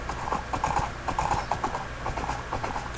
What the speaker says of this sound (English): You can see now that we're riding the horse.